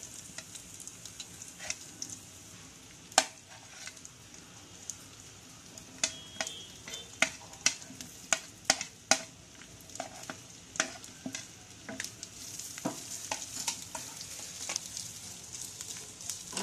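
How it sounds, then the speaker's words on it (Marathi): Coconut pieces roasting in a pan for a dry bombil curry, with a faint steady sizzle broken by frequent sharp scraping clicks and taps of stirring, close and moderately quiet, with no voices. "पहिलं मी खोबरं भाजून घेते"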